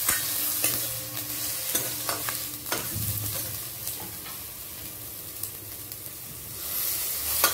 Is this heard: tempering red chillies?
yes